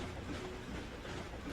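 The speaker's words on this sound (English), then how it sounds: "We're on the train right now" A train ride in the 2002 Ratchet & Clank video game: a steady, dense rumbling rail drone with faint rhythmic clatter running continuously and close, with no talking.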